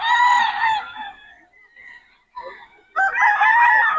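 Roosters crowing at a bocaue market stall, Nelson Black cross gamefowl around eleven months old; two loud, close crows bracket a short quiet gap.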